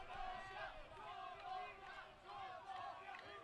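Colombia supporters in the stands and on the bench chant at a soccer match against Belgium, a distant, rolling wall of crowd voices rising and falling in waves.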